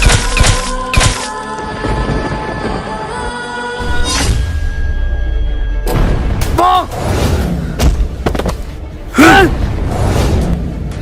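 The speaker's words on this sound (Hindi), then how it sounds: "भाई जी, ये बॉर्डर पे जगह जगह बम क्यों फट रहे हैं?" Repeated bomb blasts at a border in a comic army skit, heavy booms and cracks with slams and thuds that keep hitting in bursts, loud and close, over a dense layered effects mix.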